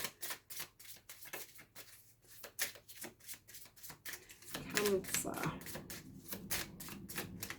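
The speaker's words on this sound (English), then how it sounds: "I like these because they're nice and small to shuffle." Rapid crisp riffling and flicking of small tarot cards being shuffled, repeated in quick bursts, with a person speaking briefly over it close by.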